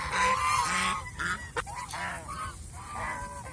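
A flock of geese on a farm honks repeatedly, loud and close, in overlapping bursts of calls with brief pauses between them and no talking.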